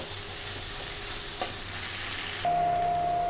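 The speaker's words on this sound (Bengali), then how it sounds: "এবার আমি দিয়ে দেবো পটল, ভালো করে কষিয়ে নেব" Pointed gourd pieces fry in a pan, a steady soft sizzle with a scrape of stirring partway through, then a sustained hum joins in near the end.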